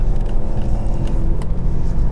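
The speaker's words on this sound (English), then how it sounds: "You can hear that the transmission is keeping me in a nice and low gear, so the revs are staying high" A 2023 Mercedes-AMG C43 is held in a low gear at high revs, giving a loud, continuous engine drone with steady rumble and no pauses.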